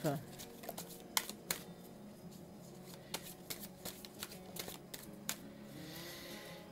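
Tarot cards are cut and handled in a string of crisp snaps and soft riffles at irregular intervals, close and fairly quiet, with a voice speaking now and then.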